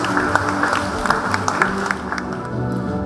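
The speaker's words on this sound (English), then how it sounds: "Big round of applause again." Applause from an awards-night audience at a rural training awards ceremony, a steady dense wash of clapping from a crowd with scattered sharper claps throughout, fairly loud and continuous with no talk over it.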